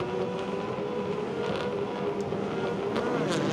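Nissan Skyline GT-R race cars at Eastern Creek in 1992 touring car racing, with a continuous loud engine drone and whine from cars passing in close succession and no clear gaps.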